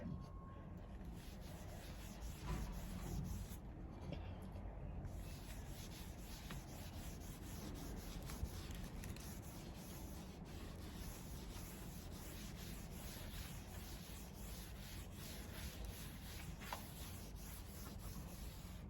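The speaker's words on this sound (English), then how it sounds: "just go over with another dry rag and just buff it out" A dry rag buffing a wax finish in a continuous, even rubbing hiss with steady strokes, quiet and close, with no talking.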